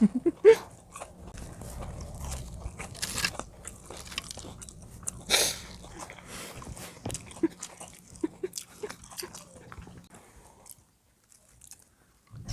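Someone bites into and chews a crispy mini hotdog cooked in a small cauldron in the countryside, with close, sharp crunches and wet chewing that come in bursts and fade into quieter mouth sounds.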